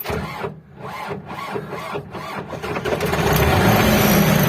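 A GAZ-53 truck engine, which has been having battery trouble, cranks loudly in a run of rhythmic starter bursts. It then catches and settles into a steady, close running roar.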